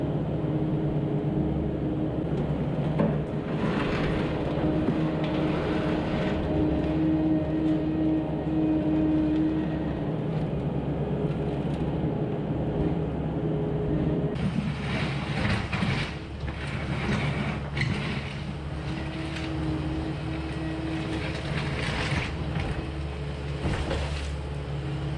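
A dirt bucket digs out an old concrete floor, heard as a steady, heavy engine rumble with grinding and scraping that thickens partway through. It continues without a break and no one talks.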